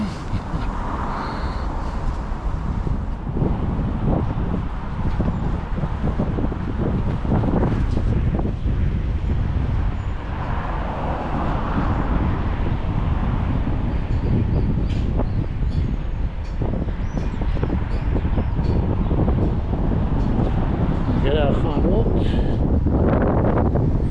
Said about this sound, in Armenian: Ինչ քամի սկսվեց